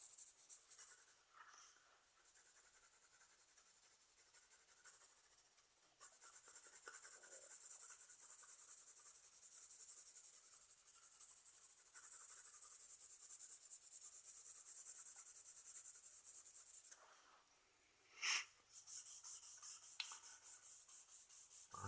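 Graphite pencil scratching and rubbing on paper while drawing and burnishing a still life, a soft continuous close scraping with strokes that grow denser midway and a brief pause near the end, no talk.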